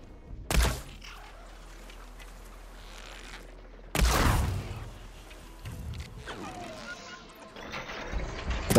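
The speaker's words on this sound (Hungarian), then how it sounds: "Na nézzük csak meg ezt a lövést." Weapon shots in the video game Horizon Forbidden West: two loud sharp blasts several seconds apart, each followed by rumbling impact and lingering effects, over a low game background.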